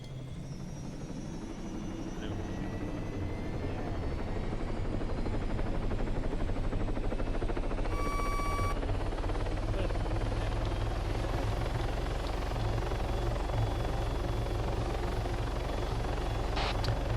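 An MH-6 helicopter in the military video game Arma 3 drones with a steady, close rotor and turbine hum that swells slightly and holds for the whole stretch, with no talk over it.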